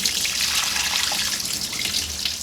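Water pours out of a ski boat's engine as it is drained into the bilge during winterizing, a steady close splashing trickle that runs without a break.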